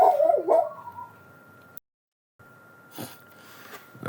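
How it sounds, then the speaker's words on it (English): A pet dog gives a couple of short, close whimpering barks at the start, then falls quiet. A steady tone and a brief gap follow before a few faint sniffs and noises near the end. "that was my doggy barking."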